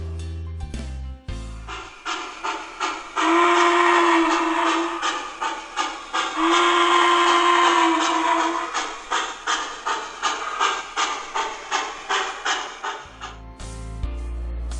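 A Southern Pacific GS4 Northern-type steam locomotive from Mike's Train House gives two long, steady whistle blasts over a continuous rhythmic chuffing that carries on alone after the whistle stops.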